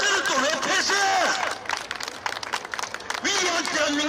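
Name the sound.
crowd applause at rally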